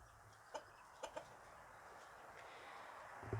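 A mother hen in a barn gives a few soft, distinct clucks spaced over a few seconds, quiet and close against faint background noise.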